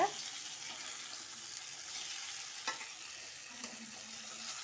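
Yam (karunai kizhangu) pieces frying in oil in a kadai, a steady soft sizzle running throughout with a couple of brief scraping clicks as the pieces are turned, fairly quiet and without talk.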